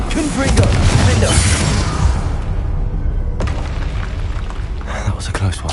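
A Confringo spell blast in the video game Hogwarts Legacy, a heavy booming explosion that rumbles and fades, followed by further thuds under game sounds and a voice.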